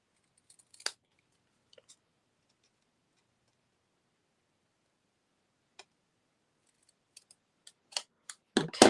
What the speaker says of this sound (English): now I'm going to take the scissors,